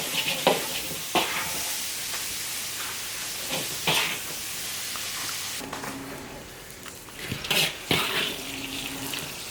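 Chili peppers and meat stir-fried in an iron wok, with repeated scraping strokes of the spatula and bursts of sizzling at irregular intervals, close and alone without talk.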